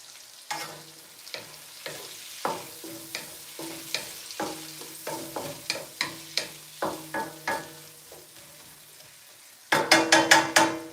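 Ingredients fry and get stirred in a pan for lobster with garlic noodles: a run of sharp scraping, clattering stirs over a soft sizzle, ending in a quick burst of louder strokes.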